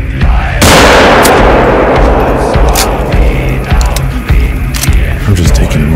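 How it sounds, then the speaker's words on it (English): Rifle gunshots in theHunter: Call of the Wild video game: one loud close blast with a long rolling echo, then several fainter sharp cracks, with some voice in the background. "I'm just taking random shots here like a wild heathen"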